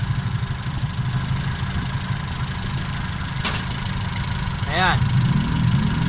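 A car engine idling with a dipstick oil-spray problem, a low steady rumble running under a man's speech, with a brief click partway through.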